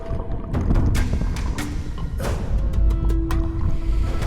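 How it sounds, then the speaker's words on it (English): Rushing water and turbulent splashes fill the clip, with sharp kayak paddle strokes cutting through the roar of the Zambezi River rapids and wind buffeting the microphone. "Imagine kayaking the Zambesi River with your eyes closed."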